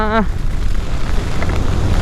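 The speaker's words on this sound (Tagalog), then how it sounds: "Lakas ng ulan." Heavy rain pours down during a long-distance motorcycle ride, a constant hissing wash with wind buffeting the microphone; a short tonal beep sounds at the very start.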